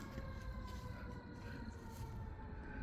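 A faint ambulance siren wails in the distance, its rising and falling tone steady beneath a low rumble of road noise.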